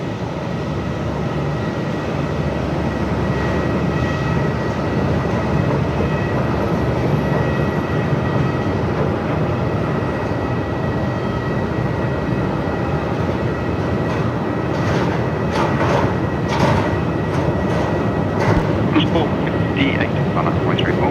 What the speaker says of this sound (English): This is Qantas 623 coming in from Brizzy this afternoon.